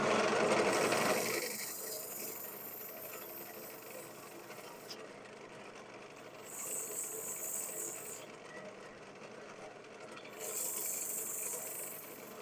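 Black locust wood spinning on a lathe is sanded with 220 grit sandpaper, a steady close rasping hiss with the motor's hum beneath, swelling louder in a few passes.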